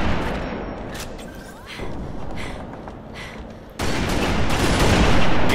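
Gunfire in a first-person shooter match, a few scattered muffled shots under a low background rumble, then a louder, denser burst of firing erupting close by in the final seconds.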